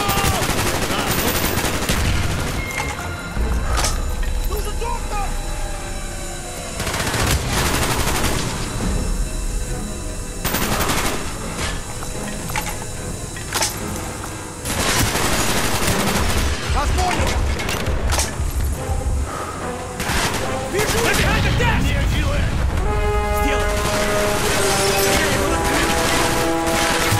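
Heavy automatic gunfire and explosions from a Call of Duty: Black Ops battle, loud and nearly continuous with repeated bursts and booms, while voices shout over the combat.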